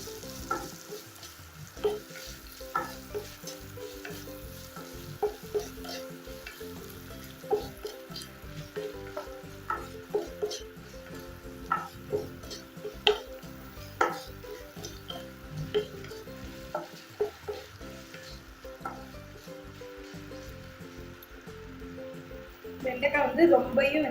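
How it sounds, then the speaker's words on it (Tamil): Cut okra stirred and fried in hot oil for a buttermilk curry, a steady close sizzle with regular scraping stirs of a spoon against the pan, while a person talks over it. "எண்ணெயிலே வச்சுட்டு அதுக்கப்புறம் அப்படியே வறுத்துங்க."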